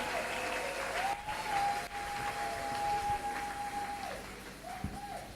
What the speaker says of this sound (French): On l'acclame alors très fort.